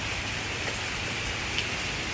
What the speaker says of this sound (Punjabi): ਇੱਥੇ ਮੀਂਹ ਪੈਣ ਲੱਗ ਗਿਆ ਸੀਗਾ